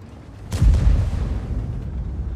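A tank cannon fires in the World of Tanks video game: one sudden loud boom with a low rumbling tail that fades over a couple of seconds, alone without talk.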